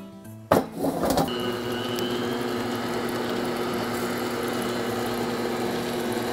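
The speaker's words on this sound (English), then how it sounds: "We're going to whisk this at medium high." An electric mixer whisking molasses cookie batter at medium-high speed starts with a couple of sharp clicks, then settles into a steady, even motor whir that holds for several seconds without talk.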